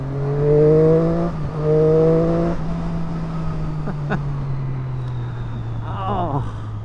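A Triumph Daytona 675 sports motorcycle engine drones steadily while riding, its note swelling and easing with the revs over rushing wind noise.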